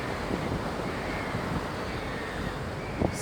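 Steady wind rushes across the microphone on a ship in the Istanbul Bosphorus, with a constant low rumble and faint wash of water beneath.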